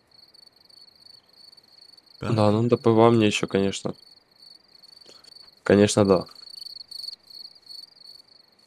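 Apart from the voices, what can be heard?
crickets chirping in the video game Russian Fishing 4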